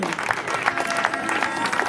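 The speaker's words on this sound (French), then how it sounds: "je vous demande d'applaudir" Audience applause for a guest at an officials' speech event during a chocolate tournament, steady dense clapping throughout at moderate level with a faint voice mixed in.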